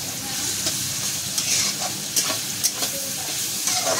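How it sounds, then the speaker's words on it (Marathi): Garlic, onion and carrot stir-frying for chow mein give a steady close sizzle, broken by intermittent scraping clicks of a spatula in the pan, with no talking. "लसूण फोडणीला टाकला, त्यानंतर आपण कांदा आणि गाजर टाकला"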